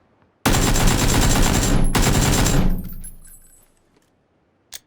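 Loud, sustained bursts of automatic gunfire in a battle royale shooter, two long volleys with a brief break between, fading out, then one short sharp shot near the end.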